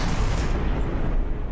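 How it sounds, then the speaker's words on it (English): Explosion in a video game craft battle, a short, loud, deep boom with rumbling low end, alone without talk. "just had an explosion on the"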